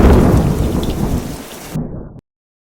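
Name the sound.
rain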